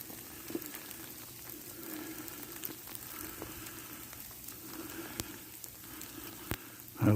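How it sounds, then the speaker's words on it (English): Rain falls outdoors in 20-degree cold during a snowstorm, making a faint, steady hiss with scattered soft drop ticks and no voices. "It's 20 degrees and it's raining."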